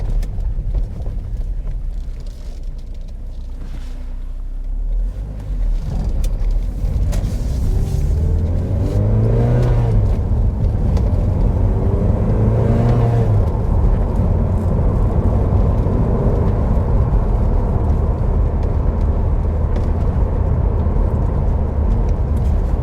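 A Porsche 968 engine rises in pitch as it revs, then settles into a steady loud drone under road rumble from inside the moving car.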